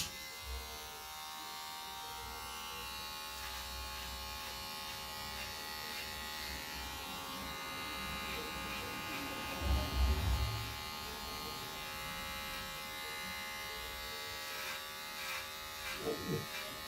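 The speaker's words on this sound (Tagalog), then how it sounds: "We gotta make it nice, like a gentleman's haircut using regular clippers and comb." Electric hair clippers give a man a short gentleman's haircut with a comb at a 1/8 inch length. A thin, steady buzz hums throughout with soft rustling and brief bumps, and speech is faint in the background.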